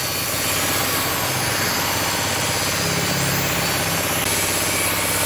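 A homemade sandblasting machine built from a used LPG cylinder runs with a loud, steady rushing hiss of compressed air, broadband and continuous throughout, with no talking over it.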